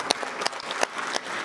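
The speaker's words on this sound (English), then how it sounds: "Let's give a round of applause to our future city competitors." Moderate applause from a Board of Education meeting audience, steady clapping with a few sharper individual claps standing out.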